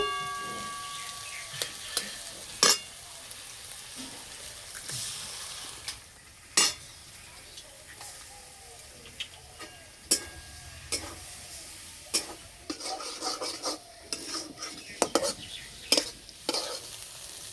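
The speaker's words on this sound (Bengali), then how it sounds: "সবজির সঙ্গে ডিম ভালো করে ভেজে নিয়েছি" Two eggs frying with boiled vegetables in a pan, a soft continuous sizzle punctuated by sharp intermittent taps and scrapes of a spatula, close and moderately quiet.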